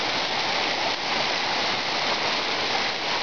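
A mountain waterfall in the Carpathians pours with a steady, dense hiss, loud and close, unbroken throughout with no talking.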